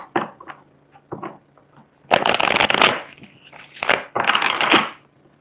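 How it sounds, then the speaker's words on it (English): Tarot cards are shuffled in quick papery riffles and bursts near the microphone, with soft card handling and slides in between and no speech. "Let's go ahead and pull another card."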